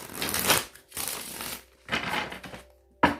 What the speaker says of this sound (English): 2 more shuffles and we're ready.